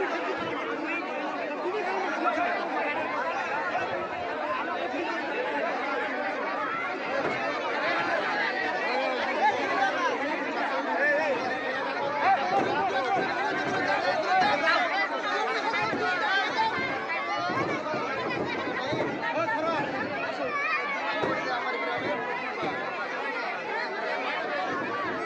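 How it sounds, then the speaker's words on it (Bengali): A dense crowd chatters and murmurs continuously at the site of a crashed training plane in Tanore, Rajshahi, with many overlapping voices and bits of laughter, steady and close throughout. "বাঁধ ভাঙা ঝড়ের মতো মানুষের সমাগম ঘটেছে এখানে বিমানটি দেখার জন্য, উৎসুক জনতার ভিড়"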